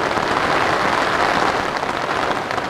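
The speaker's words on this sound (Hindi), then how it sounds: "साहब क्या बारिश हो रही है" Heavy rain drums steadily on a tent in cold, stormy weather, a dense unbroken hiss and patter that stays loud and close with no voices.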